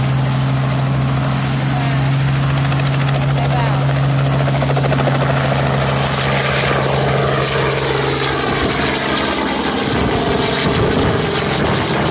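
A helicopter's steady rotor drone and engine whine fill the scene in Caraguatatuba, loud and continuous, with a low hum shifting partway through as it lifts off and passes.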